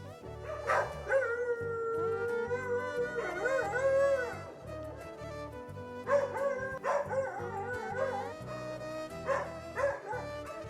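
A dog barks and howls in drawn-out, wavering bursts, several calls with short pauses between, fairly close and without talk.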